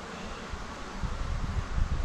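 Honey bees buzz at an open hive during an inspection, a steady, low, close-up hum with soft rustling that grows somewhat louder in the second half.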